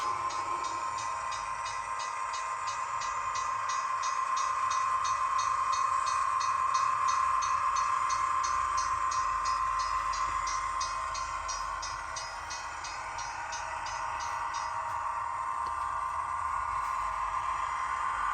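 A continuous diesel engine drone with a steady hum and fine rhythmic chattering from a model Budd RDC's dual Cat diesel sound file, running close by; it dips briefly, then resumes.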